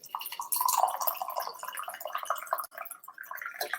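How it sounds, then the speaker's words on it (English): Water poured into a glass to top up a drink, a close trickling and splashing stream that rises and fades in bursts, with no talking. "Top up my water here."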